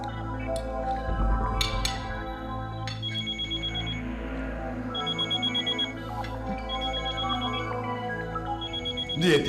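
An unanswered telephone rings in repeated bursts, a bright trilling bell pattern that keeps recurring at moderate volume with faint clinks around it.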